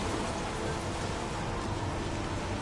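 Steady rain in the game Heavy Rain, a dense even hiss of falling water filling the scene with no breaks or voices.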